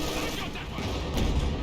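Mortar and battle fire in Company of Heroes 2, a dense rumbling wash of gunfire and booms with a stronger burst near the end, under a commentator's voice.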